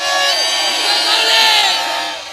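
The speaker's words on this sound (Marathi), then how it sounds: "हे प्रेक्षकांची गर्दी रिॲक्शन बघायला मिळत आहे" Spectators at a local cricket match in the Lanja Champions Trophy tournament roar and cheer together, a loud sustained crowd swell with shouts rising and falling over a couple of seconds.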